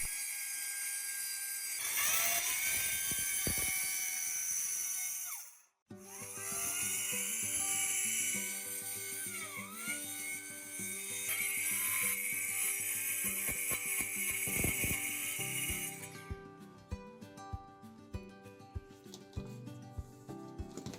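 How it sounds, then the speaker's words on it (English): A dust-collecting circular saw cuts a large, heavy panel, whining loudly for about six seconds, pausing briefly, then running for another long cut that ends in scattered clicks and knocks as the saw winds down. "It uses the same dust collecting circular saw, so I cut it to exact size while the saw is out."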